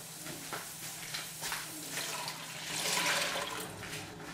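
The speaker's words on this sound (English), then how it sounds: "you want to go ahead and add 2 quarts of water" About two quarts of water poured into a cooking pot of lightly browned onions, a near, rushing splash that swells toward the end, with no talk over it.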